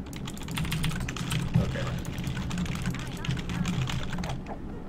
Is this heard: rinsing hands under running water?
no